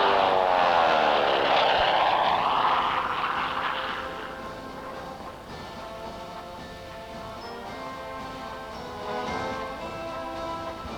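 A Harvard propeller aircraft makes a high-speed low pass at an air show in Masterton, New Zealand. It comes in loud and close with a rising, sweeping engine-and-prop roar, then eases to a steadier drone as it passes.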